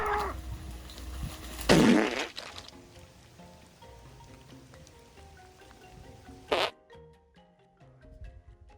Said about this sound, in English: The farts are starting to seep out